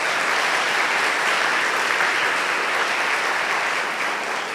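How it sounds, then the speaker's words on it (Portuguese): Church congregation applauding volunteers at a conference, a dense, steady wash of many hands clapping that stays loud and even throughout with no talk over it. "Eu queria que a gente aplaudisse esses irmãos."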